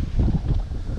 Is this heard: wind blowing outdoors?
yes